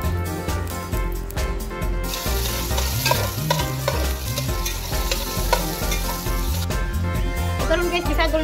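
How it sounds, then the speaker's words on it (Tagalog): Vegetables cooked with kinason being stirred in a hot pan, producing a loud, constant sizzle broken by rhythmic scraping strokes, with a voice talking over it at times. "Karon guys, bisagol na ang kinason."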